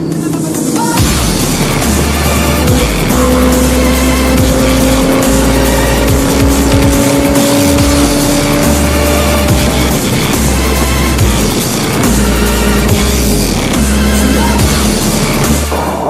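A group of cars driving together on an expressway produces a loud, continuous engine roar with deep low rumble and a rising, whining tone from accelerating motors, heard close throughout.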